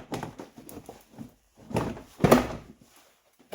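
Plastic power window switch bezel popping out of a Dodge Ram pickup truck door panel, with a few close handling knocks and rustles, then a sharper snap-like thunk near the middle of the clip before it goes quiet.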